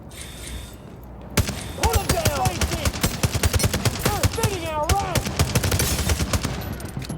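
Rapid automatic gunfire in the shooter game The Division Resurgence, sustained bursts of close, loud shots rattling on for several seconds, with high whistling and ricochet-like tones threaded through the volleys.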